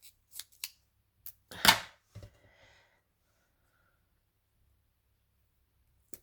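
Scissors cut through card for a flower greeting card, giving a few close, crisp snips. The strongest cut falls near the middle, followed by a short rustle and then quiet.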